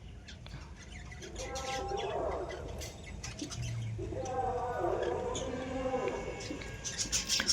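Month-old pineapple conure chicks give thin squawking calls and chirps in bursts, close by, against a low background hum.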